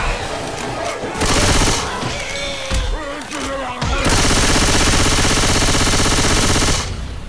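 Rapid gunfire rattles in the Left 4 Dead 2 video game, loud sustained automatic bursts broken by short pauses, with players' voices in the background.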